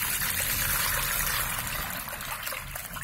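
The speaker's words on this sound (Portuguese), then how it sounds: "E ali na minha bacia aqui, eu tenho 3 litros de água que eu vou colocar logo ali" Three litres of water pour steadily into a basin, a loud continuous splashing stream that runs for the whole stretch with no voices.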